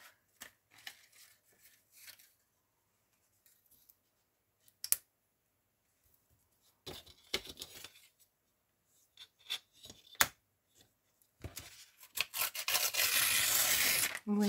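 A sheet of paper is handled and torn by hand: scattered soft rubs and crinkles close to the microphone, then a longer, louder ripping burst at the end.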